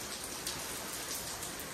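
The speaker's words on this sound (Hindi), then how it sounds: "तो गाइस देख लो बारिश आ चुकी है" Steady rain pours down close by, a dense continuous hiss of drops striking surfaces with a few brief louder splashes, and no voices over it.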